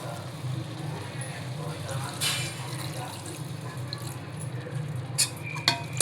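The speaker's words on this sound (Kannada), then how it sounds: "ಇವಾಗ ಇದಕ್ಕೆ ನೀರು ಹಾಕ್ತಾಯಿದ್ದೀನಿ" Water is poured into chicken curry in a pressure cooker at home, a soft continuous trickle under a low background hum, with a few sharper clinks near the end.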